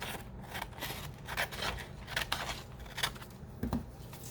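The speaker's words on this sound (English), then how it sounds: "we can cut off this bottom where I had folded it" Scissors snip through paper while a doll tag is cut out, a close run of quick crisp cuts and crackles in uneven rhythm with no talking.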